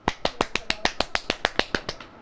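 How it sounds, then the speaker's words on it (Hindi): A run of about fourteen sharp, evenly spaced hand claps from an audience at a church sermon gathering, steady and close, with no talking over them. "ताली बजाओ।"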